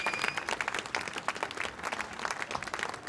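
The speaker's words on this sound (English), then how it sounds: "A huge round of applause for our losers this afternoon." An audience applauds the losing Cambridge crew at the 2016 Boat Race, a dense, fairly distant spread of clapping that runs steadily throughout with no talk over it.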